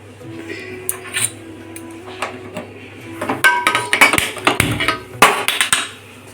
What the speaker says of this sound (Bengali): দিয়ে একটা স্ট্যান্ড বসিয়ে দেবো। দিয়ে জলটাকে চাপা দিয়ে দেবো